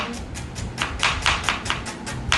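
Knife chopping vegetables on a board in a home kitchen, about a dozen crisp, evenly spaced cuts in a steady rhythm, close and moderately loud against a quiet room.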